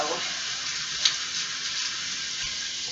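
Potato latkes frying in olive oil in a pan, giving a steady, even sizzle with faint crackles and one brief clink, with no talking.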